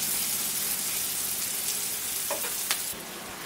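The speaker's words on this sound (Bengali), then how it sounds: "এখন এটাকে 2 মিনিট মতো একটু ফ্রাই করছি পেঁয়াজটা" Chopped onion frying in a pan gives a steady, close, dense sizzle, with a few light stirring scrapes near the end.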